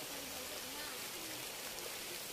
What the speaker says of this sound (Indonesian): Hujan pun turun.